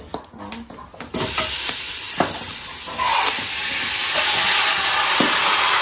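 A few clinks and stirring knocks, then a loud hiss and sizzle as free-range chicken hits a hot pot, frying steadily and growing stronger.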